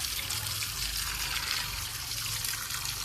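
Adenium roots being washed in water: a steady, close rush and trickle of splashing water, continuous and even throughout, with no talk.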